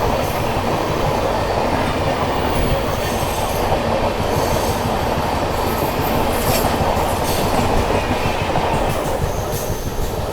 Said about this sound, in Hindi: अभी गई है गोरखपुर ऐशबाग इंटरसिटी एक्सप्रेस।